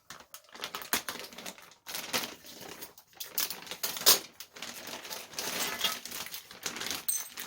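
A parcel holding a Simonini serpentine exhaust for an MBK 51 XR moped being unpacked up close, with irregular rustling, crinkling and clattering of packaging and parts in bursts and short pauses, with no talk.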